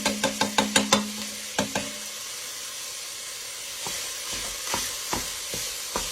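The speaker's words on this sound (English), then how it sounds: "I'm just tearing that sausage up." Italian sausage torn into pieces and browning in a pan, a quick run of sharp taps and knocks at first, then a soft hiss of frying with occasional scrapes and bumps.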